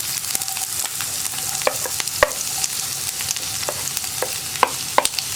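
Sliced onion stirred into mustard seeds and chilli frying in oil for a papadam curry, with sharp, irregular spatula clicks and scrapes over a continuous loud sizzle.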